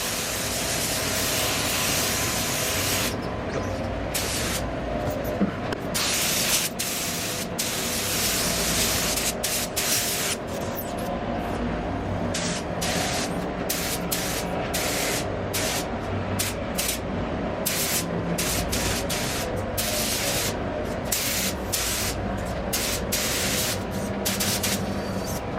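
A spray gun hisses steadily while painting Mercedes SL600 parts, a continuous loud airy spray with short rapid breaks as the trigger is released and pulled again, heard close and alone for the whole stretch.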